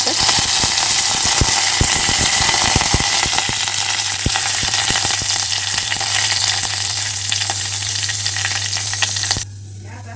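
Curry leaves sizzle in hot tempering oil, a loud, steady crackling fry with scattered sharp pops throughout, cutting off abruptly near the end with a low hum remaining.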